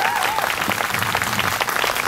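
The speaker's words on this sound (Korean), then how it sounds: "많은 분들이 다 같이 박수로 화답해 주시는데" A crowd at a political talk event in Gangnam applauds together, a dense, steady wash of clapping from many hands lasting a couple of seconds.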